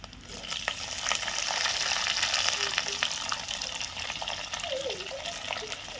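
Garlic cloves frying in oil in a pan for Kerala beef pepper fry over a wood-fired stove, a steady close sizzle with faint stirring scrapes throughout.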